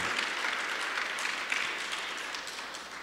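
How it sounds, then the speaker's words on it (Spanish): A church congregation applauds steadily during a Spanish-language service at Zoe iglesia, a dense, even wash of clapping at moderate level that holds throughout and eases slightly at the end. "Démosle un fuerte aplauso a nuestro Padre Celestial."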